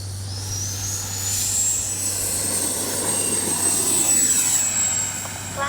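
A Freewing A-4 Skyhawk RC jet with an 80mm electric ducted fan spools up for takeoff, a loud sustained whine rising in pitch over a rushing roar, heard outdoors with steady low hum beneath.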